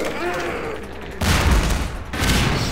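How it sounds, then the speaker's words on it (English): Grenade explosions in Half-Life 2 Episode 1: two loud, close blasts in quick succession, each a broad booming burst with a rumbling tail, following a stretch of quieter gunfire-like clatter. "Grenade, look at grenade."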